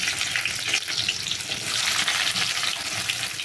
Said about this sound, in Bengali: পেঁয়াজ মরিচ দিয়ে একটা করে লাড়ে দেওয়া হইব